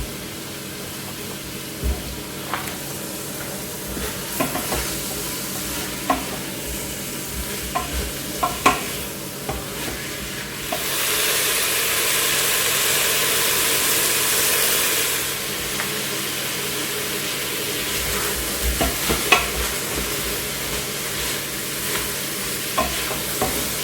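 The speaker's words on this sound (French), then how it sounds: "je vais rajouter mes 4 saucisses pour les faire revenir également" Four sausages frying in a pan alongside small bacon lardons and onions, a steady sizzle with occasional stirring clatters and a louder burst of sizzling midway, close and alone without talk.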